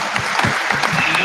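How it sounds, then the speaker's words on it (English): Brief burst of audience applause at a youth sports awards gathering, steady mid-distance clapping from a modest crowd with faint voices underneath. "Round of applause."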